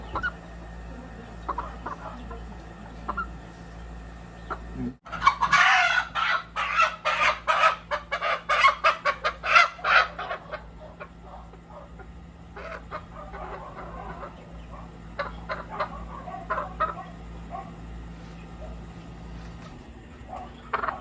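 Young stag roosters crow and cluck in a farm pen, a burst of loud calls from several birds overlapping at first, then thinning into scattered clucks against a steady low hum.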